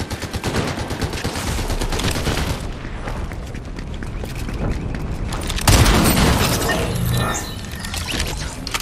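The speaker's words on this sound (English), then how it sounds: "Someone just shot at me." Dense, continuous gunfire and explosions in the video game Fortnite: rapid shots, booms and shattering hits blend into a loud, sustained barrage with a heavier burst midway.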